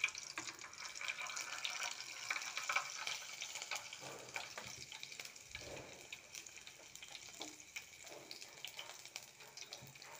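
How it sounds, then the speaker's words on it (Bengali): Green chilies dropped into hot oil tempered with five-spice seeds, frying with a steady crackling sizzle and occasional stirring or water-like hiss, close and moderately loud with no talk. "কাঁচা লঙ্কাগুলো দিয়ে দিচ্ছি।"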